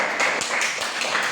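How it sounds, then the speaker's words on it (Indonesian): A class of children claps hands together in a quick, loud burst of several rhythmic claps, close by, with no talking. "Oke, tepuk tangan untuk kita semua."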